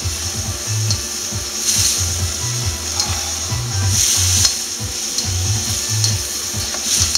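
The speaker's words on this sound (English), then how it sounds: "Let's give that a little mix." Seafood pasta made with fresh pasta sizzles loudly in a pan while a utensil stirs it close by, scraping in rhythmic strokes over the continuous frying hiss.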